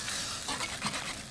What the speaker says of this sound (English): fry it.